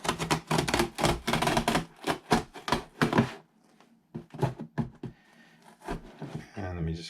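Packaging around a Supreme x Shrek skate deck being cut and torn open on a desk, a dense run of crisp cutting and ripping clicks, then a quieter pause before more sharp tearing and rustling up close.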